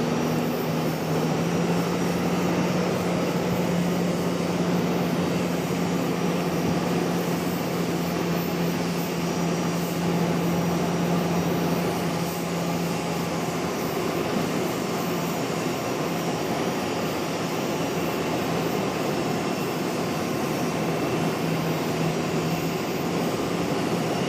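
An American Airlines jet arriving from Tampa at Charlotte airport, as a continuous engine rumble with a low steady drone, moderately loud and unbroken, with no one talking.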